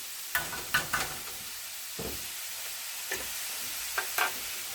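Minced garlic and vegetables sautéing in a pan: soft sizzle under scattered scraping stirs, a few sharp clinks of utensil against pan standing out, no voices.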